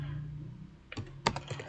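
Soft keystrokes tap on a computer keyboard in a quiet room, with a few scattered clicks following a low background hum.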